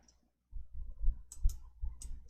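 Several faint, sharp mouse clicks while someone works in an Excel spreadsheet for a certification exercise, spaced irregularly over a low, quiet room hum with no talking.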